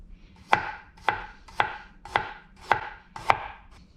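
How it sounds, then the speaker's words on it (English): A knife slices through ginger on a cutting board in six crisp, evenly spaced chops about half a second apart, close and clear with no voices. "Now let's slice the ginger."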